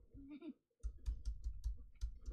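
Keys clatter on a malfunctioning computer keyboard in a rapid irregular burst of close, dull clicks and thumps, preceded by a brief muttered voice.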